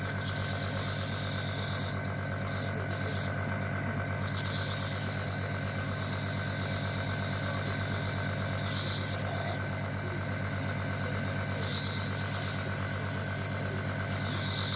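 A fogging machine engine runs steadily and close, a constant droning hum with a buzzing mechanical tone and faint rhythmic flutter, with no speech over it.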